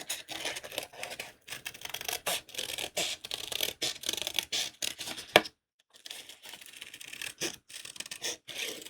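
Scissors snip through stamped paper images during fussy cutting for a craft card, giving repeated close scratchy cuts with short pauses and one brief silent gap, with no talking.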